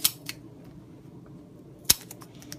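Scissors snip through a self-adhesive foam pad, giving a few sharp close clicks: two near the start and a louder one followed by smaller ticks near the end.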